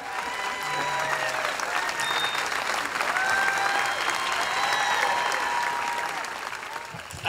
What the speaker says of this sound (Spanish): Un aplauso para recibir al señor Cano.